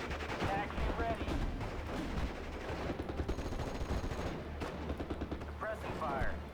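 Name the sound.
suppressing gunfire in the video game Steel Division: Normandy 44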